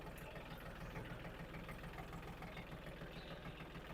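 A used Iseki mini tractor's diesel engine idles steadily and close up, a faint but continuous low rhythmic chugging with no talk over it.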